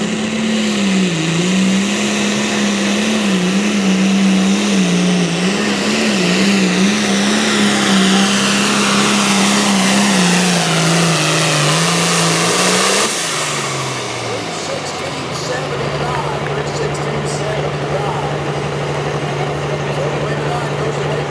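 Loud diesel truck engine roaring under heavy load during a truck pull at a diesel showdown, with a steady low drone that wavers, then drops sharply to a lower idle-like note partway through; crowd or announcer voices mix in.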